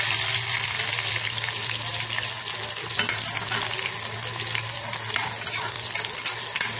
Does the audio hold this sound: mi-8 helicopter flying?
no